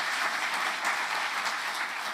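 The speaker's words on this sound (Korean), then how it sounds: "우리 다시 한번 하나님께 영광의 박수를 올려드립니다." A church congregation claps steadily at a New Year's Eve worship service, a dense, even wash of applause that fills the whole moment without any speech over it.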